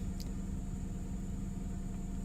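Lincoln LS V8 engine idling, a steady low rumble with a constant hum on top, even and unbroken at close range, no talking.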